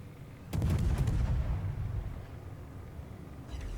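Naval guns firing shells in World of Warships, a single heavy boom with a low rumbling tail that fades over a few seconds, then a faint crackle near the end; no voices.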